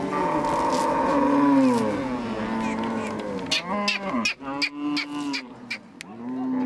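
Cattle of the Dinka herders in South Sudan mooing, several long, drawn-out calls rising and falling close by, the lowing overlapping at first and later broken into separate moos amid other animal sounds.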